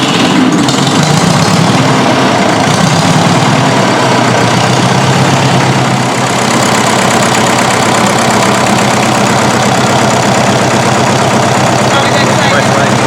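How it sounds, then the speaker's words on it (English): A worn Ferguson tractor engine idles and runs unevenly with a rough, knocking chug, the sump pressurizing from wear, loud and close throughout while people talk over it. "So that engine is breathing."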